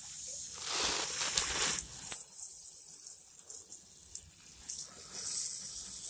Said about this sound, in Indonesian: Kalau bisa kita menyiramnya dengan siram jenuh.